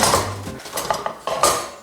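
Metal clatter of a baking tray being taken out of an oven, with a couple of sharp clanks and scraping, close by and fairly loud.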